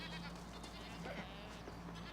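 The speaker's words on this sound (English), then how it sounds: "There's so many goats also." Goats bleating in a rural outdoor spot where many goats gather near a blue house, their calls quiet and somewhat distant under a steady background hum, with a faint voice at times.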